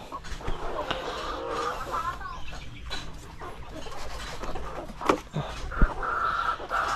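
Dekalb Brown laying hens cluck and murmur steadily nearby, with a few sharper calls and bumps breaking through the busy farmyard background.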